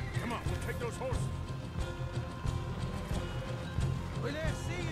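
Horses gallop in Red Dead Redemption 2, with rapid, rhythmic hoofbeats thudding close and steady, while voices talk over the running.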